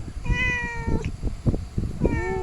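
A domestic cat meows close by, two distinct drawn-out meows separated by a short gap, over a busy background of household noise.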